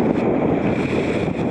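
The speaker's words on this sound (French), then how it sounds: "les commandos essaient une toute nouvelle embarcation semi-rigide" A new Zodiac 1200 RIB semi-rigid commando boat with three engines near 900 horsepower runs at sea on the Mediterranean, giving a loud, continuous engine roar mixed with rushing water and wind buffeting, steady throughout with no speech.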